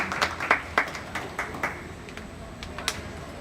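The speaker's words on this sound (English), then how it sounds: "Let's give them one more round of applause for their hard work" Applause from a livestock show crowd honoring showmanship winners in an arena: a few scattered, sparse claps rising and fading, moderately faint and irregular rather than a full ovation.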